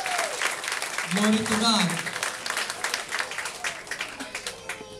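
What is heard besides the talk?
audience applause at a religious seminar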